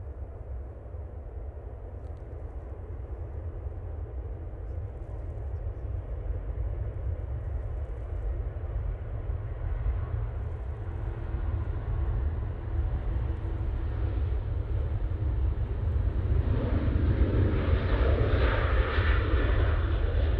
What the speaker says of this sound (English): Ryanair now on the roll.